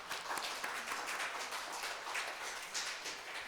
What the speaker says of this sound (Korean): 우리 잘했다고 격려 박수 한번 쳐주세요